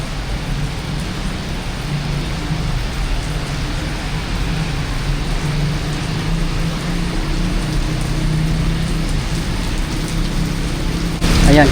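Heavy rain pours steadily at a Metro Manila subway station entrance, a dense continuous roar with low rumbling beneath, unbroken and fairly loud throughout.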